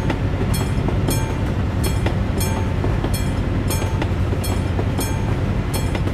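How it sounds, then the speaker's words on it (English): A train passes in the truck-driving game Euro Truck Simulator 2, its wheels giving a loud, steady rumble with regular clickety-clack beats about every three-quarters of a second, filling the whole stretch without talk. "Comes the train."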